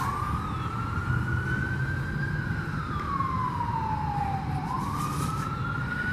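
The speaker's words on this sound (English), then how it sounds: "And of course you're going to hear sirens." A wailing siren slowly rises and falls over a constant low traffic rumble in Tampa, Florida, sounding from a moderate distance.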